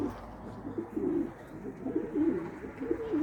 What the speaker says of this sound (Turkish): Kuşları şöyle dışarı saldım.